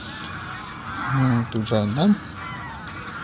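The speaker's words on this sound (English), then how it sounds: "The geese are really noisy and they can be heard from a long distance." A flock of greylag geese at Keoladeo National Park in Bharatpur lets out a short burst of several nasal honks in the middle, heard over a steady outdoor hum, with someone talking.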